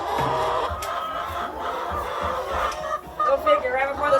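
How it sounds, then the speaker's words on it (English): Dense chorus of many chickens clucking and squawking together inside a warm barn during a winter snowstorm on an Indiana farm, a steady crowded din with a few louder calls near the end. "That's a lot of chickens."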